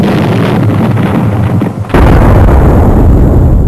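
A huge explosion sound effect representing the big bang: a loud, dense rumbling roar that suddenly surges even louder partway through and keeps booming on.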